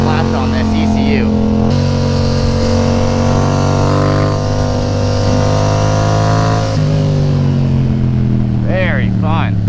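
A Yamaha FZ-07 motorcycle with a flashed ECU drones steadily while being ridden, a loud sustained engine hum with a slight shift in pitch, as riders talk over it.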